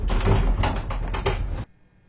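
A door is opened with a short burst of clattering, rattling mechanism noise, close and fairly loud, ending abruptly into near silence.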